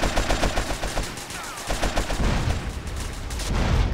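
Rapid AK rifle fire from GTA San Andreas, a hard-mode mod run through Los Santos, crackles in quick bursts across the whole stretch, loud and close, with a brief lull in the middle before the shooting picks up again.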